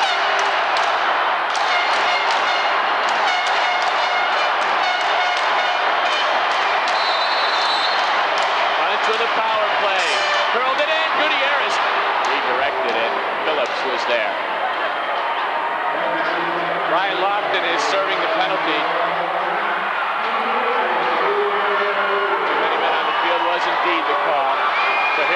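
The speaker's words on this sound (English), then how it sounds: "Listen to the crowd." Arena crowd at a 1995-96 NPSL Championship Series indoor soccer game between the Kansas City Attack and the Cleveland Crunch in Cleveland: a dense, constant roar of fans with bursts of cheering and thuds, under commentators talking throughout.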